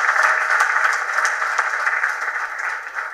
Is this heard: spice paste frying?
no